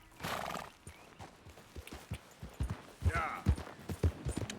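A horse in Red Dead Redemption 2 whinnies twice in quavering bursts while hooves clip-clop and shuffle nearby, fairly quiet, with someone speaking briefly.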